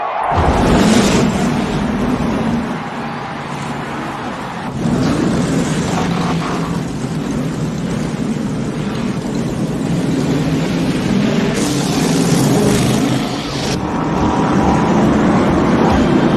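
Race car engines fire up at the Daytona 500, a loud, sustained roar of many motors filling the air, dipping briefly and then swelling again with no talk over it.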